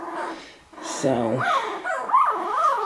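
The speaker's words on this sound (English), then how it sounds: "you can hear the puppies" Puppies whimper and yip in rising, wavering squeals that come in several short bursts, close by indoors during a storm, with a person speaking over and between them.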